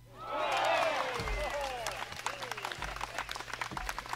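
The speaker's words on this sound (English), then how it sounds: "You know, it's like slow clap" A studio audience breaks into applause and cheering, a loud burst at first that thins into scattered claps with a few whoops over a low background hum.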